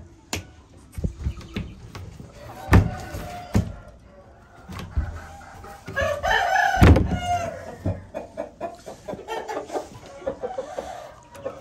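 Roosters crowing and clucking at close range, several loud drawn-out cock-a-doodle-doos scattered among sharp clucks and rustling, with occasional speech in between.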